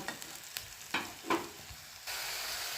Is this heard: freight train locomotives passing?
no